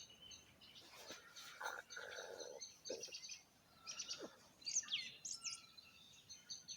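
Birds chirping and calling in short bursts over a quiet, hissy outdoor background, with a few soft croaking notes mixed in.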